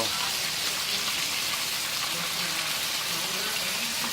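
Ground turkey sizzles in bacon fat with onion in a pan, a steady, even hiss of frying that stays moderately loud throughout with no voices.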